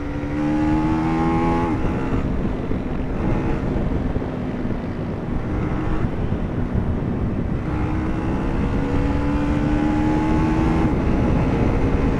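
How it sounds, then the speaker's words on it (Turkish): A 250 cc street motorcycle is ridden with a continuous exhaust rumble whose pitch climbs and drops as the rider accelerates and shifts, heard close under steady wind buffeting. "Şu egzozun patırtısı çok iyi ya."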